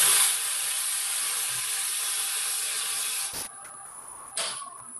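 Sandpaper is rubbed back and forth over a wooden segment in a woodworking demonstration, a loud continuous hissing scrape close by, ending with a few brief pauses and clicks.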